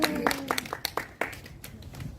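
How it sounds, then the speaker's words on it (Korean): An audience claps for a museum director at a Koryo-saram cultural center in Gwangju, with a run of scattered, uneven hand claps close by that stop briefly and then resume more softly. "관장님 이 박수 쳐줘야 돼요."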